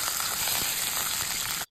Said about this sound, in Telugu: 1/2 స్పూన్ ఆవాలు, 1 స్పూన్ శనగపప్పు, 2 ఎండుమిర్చిలు వేసి వేగనివ్వాలి.